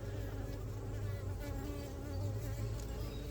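Bees from a sparse honey bee colony hum in an open hive with drones and honey frames, a steady close drone where single bees rise and fade as they fly near; nobody speaks.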